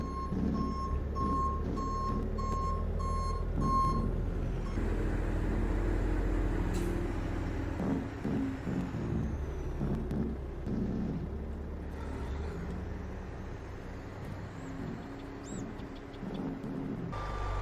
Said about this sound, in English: Let's get that Kenworth T800 unloaded of gravel.